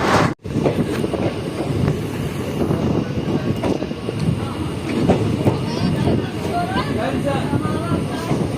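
Jaynagar–Samastipur passenger train (05514) rolling steadily on rails, a continuous broad rumble and rattle heard from on board, with a brief dropout near the start and voices faintly underneath.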